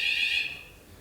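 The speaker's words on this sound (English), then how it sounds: "I hope this was not an alarm or a fire drill." A high-pitched electronic alarm tone sounds in a conference hall, a steady bright beep that fades out after about half a second with no talk.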